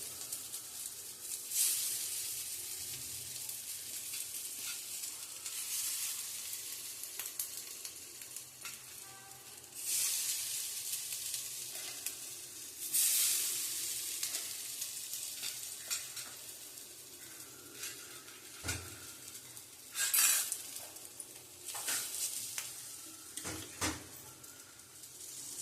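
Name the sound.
kothmir vadi frying and sizzling in oil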